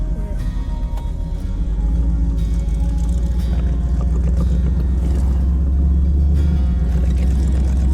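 Inside a moving 1966 Dodge Charger, the engine gives a steady, loud, low drone throughout, with some road rumble and occasional faint talk underneath.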